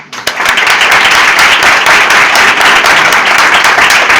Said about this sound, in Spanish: un aplauso fuerte para ella